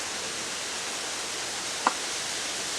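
The River Njoro, a stream carrying sewage, rushes in a steady, broad hiss close by, with one brief click partway through.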